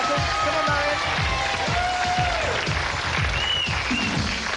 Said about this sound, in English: So let's have a big cheer for Martin and Marion